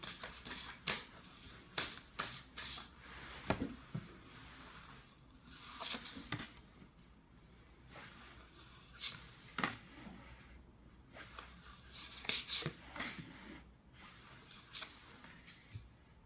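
Tarot cards are shuffled and dealt in soft, quiet bursts of riffling and slapping, irregular and close, with pauses between handfuls.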